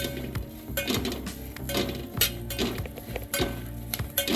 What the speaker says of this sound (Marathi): तेल न घालता मिरच्या आपण असं डाग लागेपर्यंत भाजून घ्यायच्या आहेत